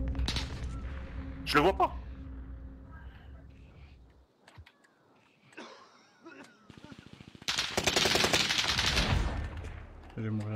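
Bursts of gunfire from Call of Duty Warzone, with single shots and a dense rapid volley late in the clip, loud and close, interleaved with players talking in French.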